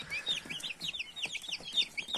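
A whole box of young chicks kept without light chirps in a dense, overlapping chorus of high, rapid peeps, close and steady throughout.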